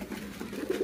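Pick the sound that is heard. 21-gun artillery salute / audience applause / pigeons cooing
pigeons cooing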